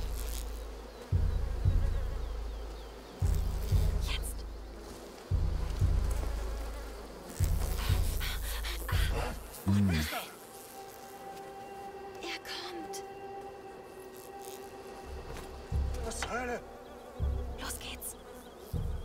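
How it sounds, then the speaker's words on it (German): Swarming bees drone in the video game A Plague Tale: Requiem, a steady insect hum running under a pulsing low music beat with occasional game effects, fairly close and continuous through the scene. "Überall sind Bienen."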